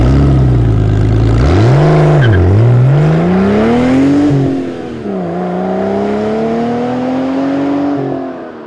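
A BMW E39 540i with head damage from overheating revs loudly and close by, its engine note sweeping up and down before settling into a steadier, slightly rising drone, with no talking.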